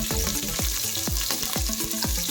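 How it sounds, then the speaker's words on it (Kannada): Chopped onion sizzles steadily in hot oil inside a pressure cooker while tempering for a Karnataka-style kheema saaru, with a spoon scraping through it in a regular rhythm about every half second, close and loud. "ಇಲ್ಲಿ ಒಂದು ಕುಕ್ಕರ್ನಲ್ಲಿ ನಾನು ಸ್ವಲ್ಪ ಎಣ್ಣೆ ಹಾಕ್ಕೊಂಡು ಒಂದು ಅರ್ಧ ಈರುಳ್ಳಿ ಒಗ್ಗರಣೆ ಹಾಕೋತಾ ಇದ್ದೀನಿ."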